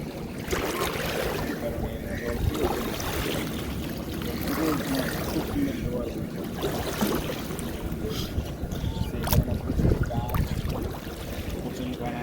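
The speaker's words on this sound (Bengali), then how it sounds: "প্রবল জোয়ার আসছে, আবার এসছে এখন" Strong tidal surge on the Ganga river at Panihati, a steady broad rush of moving water with wind buffeting the microphone and faint distant sounds throughout.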